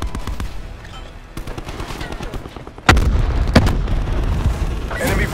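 A frag grenade goes off in the Black Ops 4 game on the Summit map with a sudden loud blast, followed by several sharp bangs and gunfire-like pops over a low rumble of battle noise.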